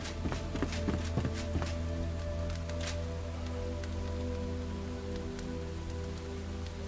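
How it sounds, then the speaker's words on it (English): In the video game Enshrouded, steady rain hisses in the background while a run of close footsteps taps out in the first couple of seconds, and the rain then carries on alone. "rain will go away with the night."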